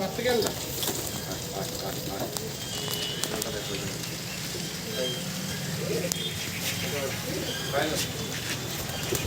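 Pigeons of fancy breeds such as Kaldom, Kalshira, Jack, Kagzi, Fulshira, Sobuj and Chotiyal fill a netted loft with soft cooing and fluttering against a dense, steady bed of noise.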